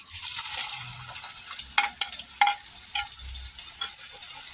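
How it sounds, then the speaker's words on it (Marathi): Finely chopped onion frying in oil with whole spices, a hissing sizzle that fades a little, broken by several sharp spatula scrapes and taps against the pan, close up and without speech. "इथं कांदा घेतला आता बारीक चिरून हे पण टाकायचं"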